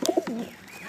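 A pigeon coos in short soft bursts at close range, kept at a loft before a release flight, with a brief chirp-like note.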